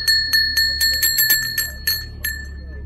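A small alpine bell at a flea market rings repeatedly in quick, bright, irregular strikes with a clear metallic tone, close by, over a low steady hum.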